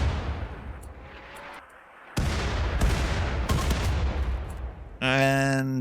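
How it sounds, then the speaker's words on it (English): Mortar shells burst in the Rimworld video game, giving dull booms and crackling bursts over a rumbling battle bed, ending on a bright tonal game chime. "More mortar shells."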